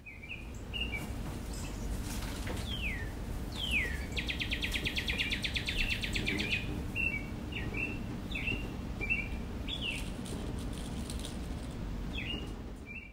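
Small captured birds give repeated sharp chirps and short whistled calls close by, scattered irregularly over a quiet background, with one stretch of rapid buzzing trill in the middle.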